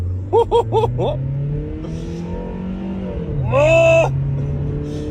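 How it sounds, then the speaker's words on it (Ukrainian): A cheap used car's engine turns over and settles into running, with a low steady engine drone carrying through under brief laughter and some rising, sliding whistling tones. "Ух, касетку вставив, ключ втикнув. Завелась."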